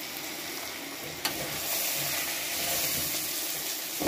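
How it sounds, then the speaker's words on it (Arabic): Boiled rice being stir-fried with toasted vermicelli in a pan, a dense, hissing sizzle that swells after a sharp clatter, with stirring scrapes beneath. "لازم ان احنا نشوح الرز كويس"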